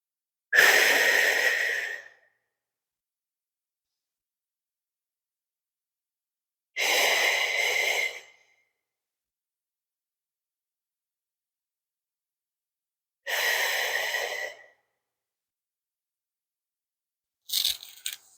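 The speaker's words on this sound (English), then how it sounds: "Take a nice deep breath in." Slow, deep breaths during a recovery stretching session on the floor, three long audible inhales or exhales separated by quiet pauses, close and clear with no talk, ending in a brief rustle.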